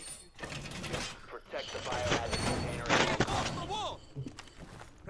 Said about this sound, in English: So much shooting going on.